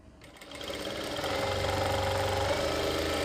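Sewing machine stitching a kurti collar, its motor whirring up from a quiet start into a steady, fast run of close, continuous stitching.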